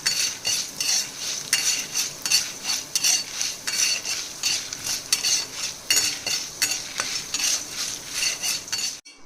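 Dried chilies roast in a pan for vendakkai sambar, a spatula scraping and clinking against the metal in quick repeated strokes over a light sizzle, close up and alone.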